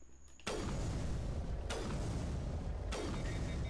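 Three heavy gunshots from a gun in Mass Effect fire at roughly one-second intervals, each a sharp loud crack with a long rumbling tail that runs into the next shot.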